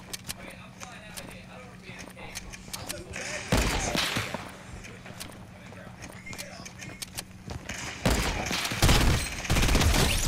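Gunfire in the battle royale game Fortnite, with bursts of shots around the middle and near the end over steady background game noise, fairly loud and close, with a voice speaking in places.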